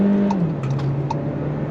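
A 2022 VW Taos with 4Motion all-wheel drive pulls under throttle, its engine drone holding steady and then dropping in pitch as a gear shifts, heard from inside the cabin with faint clicks.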